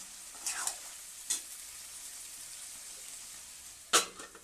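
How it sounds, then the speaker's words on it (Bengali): Food frying in a pan is stirred, a faint low sizzle punctuated by three sharp scraping clatters, the last one the loudest, with no talking. "এবার ভালোভাবে নেড়ে ছেড়ে আরো 2 মিনিটের জন্য ঢাকা দিয়ে রাখবো।"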